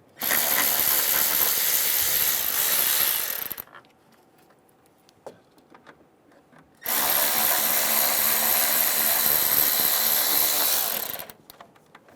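Power ratchet spinning out the 10mm bolts on a Hyundai Sonata coolant reservoir, two loud sustained whirring bursts of about three and four seconds separated by a quiet stretch with faint clicks.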